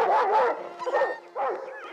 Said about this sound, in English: Barney jumped up and barked at the mischievous creature